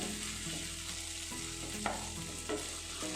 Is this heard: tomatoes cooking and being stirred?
yes